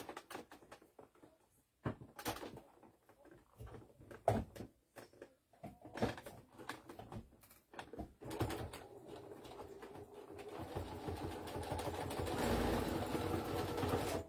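A sewing machine runs a straight stitch on a breastfeeding bra, starting with short stop-start bursts and a few knocks, then settling into a steadier, louder hum over the last several seconds; no voices.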